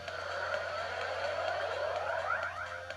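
In the Troopanum 2 audio game, the next-level-reached effect is a steady electronic whoosh of rising, sweeping tones that glide upward and fan out near the end, moderately loud and alone, with no talking.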